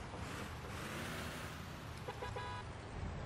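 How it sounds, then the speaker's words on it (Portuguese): A short, brassy blast from an old truck horn in Euro Truck Simulator 2 sounds over a constant loud engine rumble and road noise, lasting under a second near the end. "Até a buzina dele é."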